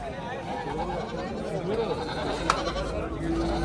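At a busy livestock market in Angren, sheep, rams and goats bleat now and then amid a constant crowd murmur and nearby voices, the animal calls faint and partly buried under the talk.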